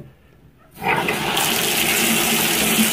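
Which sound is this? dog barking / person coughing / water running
water running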